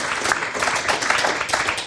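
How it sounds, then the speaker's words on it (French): A conference audience at a French science event on plant-based food bursts into dense, continuous applause, loud and close throughout. "Applaudissements."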